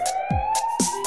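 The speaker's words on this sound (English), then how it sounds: "It's a siren, that's what it is." A toy fire-truck siren wails with a steady, rising-and-falling electronic tone, close and loud, with brief clunks and thumps over it.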